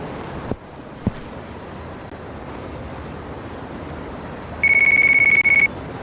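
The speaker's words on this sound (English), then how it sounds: "The phone is ringing." Phone ringing in the video game Yakuza 5 Remastered, a short electronic trill repeating in quick pulses for about a second over soft ambient hiss, preceded by two faint clicks.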